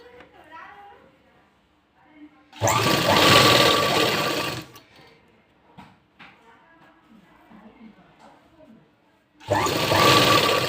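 A sewing machine stitches a sleeve in two loud bursts, one of about two seconds and a later one starting near the end, with quieter handling noise and faint background voices in between.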